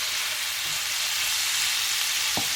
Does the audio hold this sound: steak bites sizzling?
yes